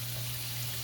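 Half a cup of water is poured into a simmering egg curry, giving a brief, steady splashing pour over a low electrical hum, close and fairly quiet.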